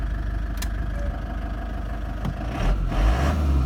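Autocruise Wentworth motorhome engine idling steadily and close by, a low continuous rumble that deepens near the end as it settles.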